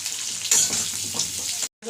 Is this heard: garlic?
yes